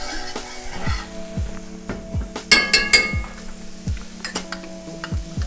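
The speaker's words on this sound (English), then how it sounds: "I'm going with my onions" Onions sizzle in melted butter in a pan, a lively close hiss punctuated by a few sharp clinks of a utensil against cookware.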